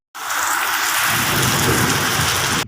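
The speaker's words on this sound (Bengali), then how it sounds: "বৃষ্টিটা প্রচণ্ড জোরে এসছে" Heavy rain pours down in a dense, loud, unbroken roar with low thunder rumbling beneath it, starting abruptly and continuing steadily.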